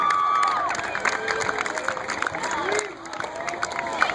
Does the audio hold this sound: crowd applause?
yes